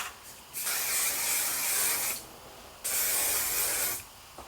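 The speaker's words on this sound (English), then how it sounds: "So I'm just going to hairspray them real quick." Hair Biology Multitasking Hairspray hisses from an aerosol can onto curled hair in two close, loud bursts of about one and a half seconds each, separated by a brief pause.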